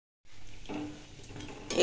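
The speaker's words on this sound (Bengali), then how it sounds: "এগুলো একে একে আমি এই সবগুলো একটু ভেজে নেব এখন।" Gokul pithe, sweet Bengali fritters, fry in hot oil with a steady close sizzle, a brief pan clatter and a louder bubbling rise near the end.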